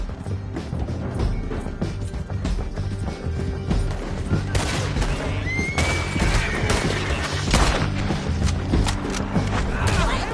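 A horse whinnies briefly amid a dense, loud battle din of rapid gunfire, crashes and shouting voices in the video game Red Dead Redemption 2.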